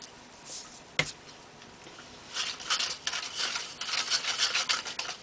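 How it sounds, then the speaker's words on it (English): A grout and sand mixture is stirred by hand, giving soft gritty scraping and rubbing sounds, with one sharp knock early on before the scraping grows more active, quiet and close. "It's easier to stir, keep adding, and keep stirring."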